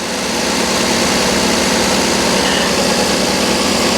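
An engine idles steadily at a Copart salvage auction yard, a loud close continuous rumble with an even low hum that holds unchanged throughout, with no voices.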